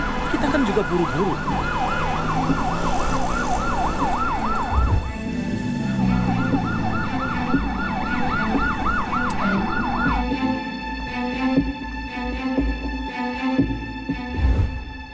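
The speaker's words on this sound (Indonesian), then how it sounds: "Pasti ini ambulans." An ambulance's wailing siren sweeps up and down close by over traffic noise, briefly broken around the middle, then cuts off, leaving only street and engine rumble.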